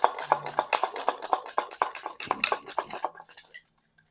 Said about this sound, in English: Once most of the powder is mixed in, then you can get a little more aggressive with the stirring